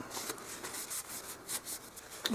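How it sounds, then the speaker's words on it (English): A paper towel rubs and buffs a freshly stained, doll-size wooden fireplace, making soft, close, rhythmic swishing strokes with no speech. "Buff it out with the paper towel."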